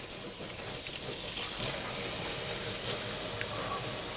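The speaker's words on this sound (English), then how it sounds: "Wash my hands off, because this stuff is like cement." A kitchen tap runs steadily as someone washes sticky chicken-strip batter off their hands; a continuous, fairly loud rush of water with faint splashing and no speech.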